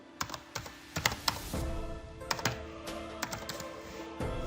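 Quick bursts of typing on a computer keyboard, close and fairly quiet, with uneven clusters of key presses and a few short pauses, no voices.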